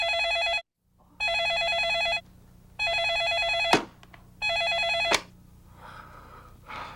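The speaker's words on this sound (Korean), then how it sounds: "그렇게 밤마다 걸려오는 전화" An old-style telephone rings at night in loud, regular bursts of trilling bells separated by short pauses, with a gasp-like breath between rings.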